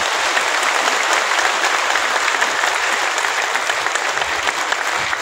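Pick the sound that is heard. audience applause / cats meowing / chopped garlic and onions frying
audience applause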